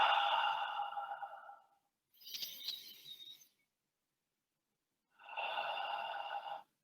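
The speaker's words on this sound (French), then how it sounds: "Inspiration par le nez et expiration par la bouche." A slow conscious breath in through the nose and out through the mouth, close and soft, with airy inhale and exhale phases separated by silent pauses, and no talk.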